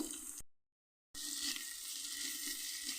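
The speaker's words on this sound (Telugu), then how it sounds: "టమాటా ముక్కలు చాలా సాఫ్ట్గా అవ్వాలండి. అప్పుడు దాకా వేగనిద్దాము." Tomato pieces sizzling as they fry in a pan, a steady close crackle with a brief gap of silence near the start, no talk.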